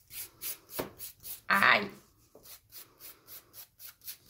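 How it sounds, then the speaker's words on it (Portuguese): Fingernails being filed with a nail file: quiet, rhythmic back-and-forth rasping strokes, roughly two per second, broken by a brief louder burst where a person cries out. "Ela está lixando a minha unha agora"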